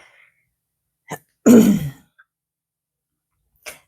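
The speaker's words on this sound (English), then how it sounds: "Having a coughing fit." A single sharp cough from an allergy-stricken woman, preceded by a short throat-clearing grunt and followed later by a faint exhale, all close to the microphone in an otherwise quiet room.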